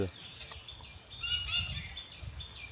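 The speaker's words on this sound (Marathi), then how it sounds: "चल चल चिमणी दिसली" Sparrow chirps repeat in short, high bursts, faint and somewhat distant, over low background rumble and a quiet voice.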